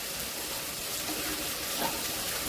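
Red chili powder sizzles in hot tempering oil with turmeric while masala khichdi is being made, giving a steady, even hiss that runs throughout with no speech.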